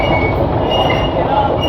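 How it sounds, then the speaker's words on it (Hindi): Trains at Jammu Tawi railway station make a loud, steady rumble of moving rail cars, with a faint thin wheel squeal running underneath. "ये जम्मू तवी रेलवे स्टेशन"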